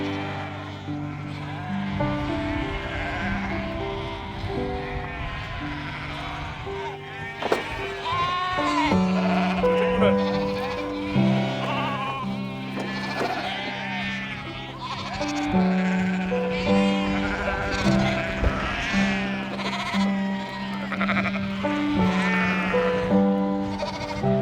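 Sheep, lambs and ewes bleat after being unloaded for the move to mountain pasture, many overlapping calls near and far, repeated and wavering over a constant flock murmur for the whole stretch.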